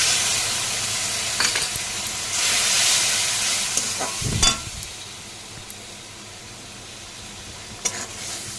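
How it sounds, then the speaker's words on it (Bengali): Spice paste frying in a pan for a pointed gourd and potato dish, a steady close sizzle and hiss with occasional stirring scrapes and a louder burst partway through. "মশলাটা ভাজা দিচ্ছে"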